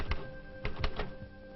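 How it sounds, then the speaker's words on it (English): An automatic typewriter in an instrument laboratory types out reports: a few sharp mechanical strikes in an uneven rhythm, close, over a constant hum, on an old recording. "types out its reports on an automatic typewriter"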